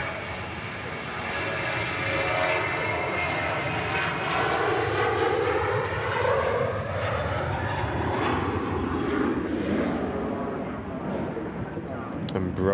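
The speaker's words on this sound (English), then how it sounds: "The TUI rolling to Tenerife" A TUI airliner rolls for take-off at Manchester bound for Tenerife, its engine roar building and sweeping in pitch as it passes, with a voice talking intermittently over the noise.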